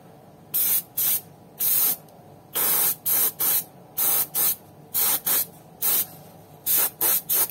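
Clear top coat sprayed from an aerosol can onto a patent leather shoe in about fifteen short, sharp hissing bursts, some single, some in quick pairs or triples, separated by brief near-silent gaps.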